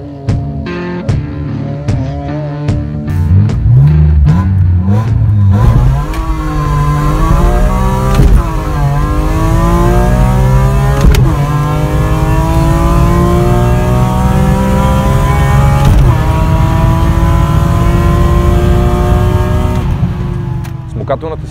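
A BMW E36 M3 with an S54 engine revs and pulls hard, the deep engine note sweeping up and down through several gear changes, loud and close throughout with a steady drone.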